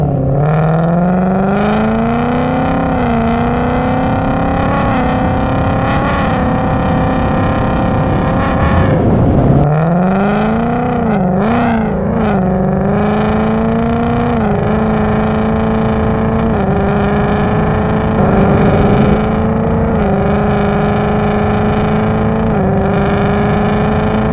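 2020 Ford Mustang GT V8 with an XForce 3-inch catback exhaust and valves open, accelerating moderately with a loud, steady throaty rumble that climbs in pitch, drops briefly at a shift, then climbs again, close and continuous.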